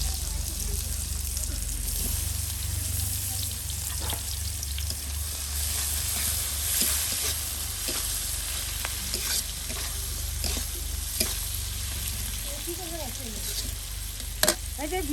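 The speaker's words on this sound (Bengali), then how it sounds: "পেঁয়াজ কুচি আর কাঁচামরিচ কুচি দিয়ে দিই" Chopped onion and green chili fry in a village kitchen pan with a continuous sizzle and frequent sharp clicks of stirring, a low rumble of flame underneath and a faint voice in the background.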